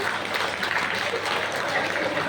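Audience applause at a Hindi comic poetry gathering in Siwan, a steady wash of clapping across the whole moment, fairly loud and close, with a voice faintly mixed in underneath.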